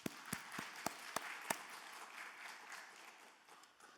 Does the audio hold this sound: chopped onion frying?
no